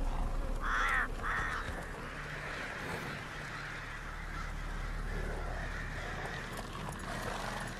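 Crows caw twice close by in the open world of The Witcher 3, a pair of short harsh calls early on, then a steady ambient game soundscape with low wind and distant faint bird calls.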